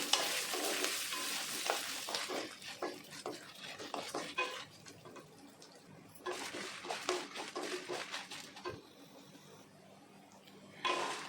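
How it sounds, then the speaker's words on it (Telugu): About twenty dried red chillies frying in a pan on a low flame, a soft crackling sizzle with irregular spoon scrapes and stirring clatter, close by, fading quieter midway, then livening again at the end. "ఇవన్నీ లో ఫ్లేమ్లో బాగా కలర్ వచ్చేంత వరకు వేగాలి"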